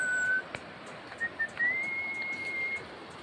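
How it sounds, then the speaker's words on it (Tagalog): Someone whistles a few thin notes, starting with a short tone, then a pause and a longer rising, held note. It is faint and alone against quiet outdoor background. "Ay, pasipol-sipol."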